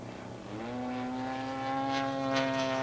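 A propeller-driven aerobatic airplane flies a stall turn into knife-edge flight, its engine droning steadily with a rising pitch, loud and continuous.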